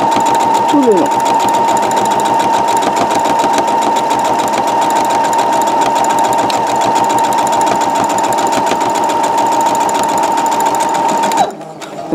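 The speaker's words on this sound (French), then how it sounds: "je tire comme ça mon tissu, je le plaque et je fais une petite surpiqûre tout le long" A sewing machine topstitches along the fabric of a zip pouch, a loud steady rapid whir held close for over eleven seconds before stopping, with a voice speaking over it.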